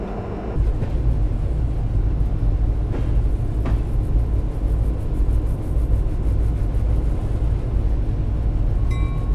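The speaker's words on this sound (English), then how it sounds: "Now you can hear the fans running." Cooling fans run aboard a train crossing a scenic mountain subdivision in winter at sunset, heard as a loud, constant low roar and rumble with the steady drone of rolling railcars and no voices.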